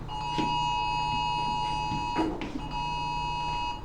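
Several mobile phones in a classroom go off together with an earthquake alert, a loud, steady electronic beeping tone that briefly stops and resumes, with a few short voices and bumps heard in between.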